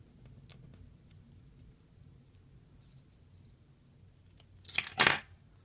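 Scissors cutting a small piece of doll shirt material, a faint rustle for several seconds and then a short, sharp snipping burst near the end, close and quiet.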